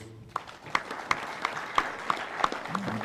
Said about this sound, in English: let us put our hands together and give them a round of applause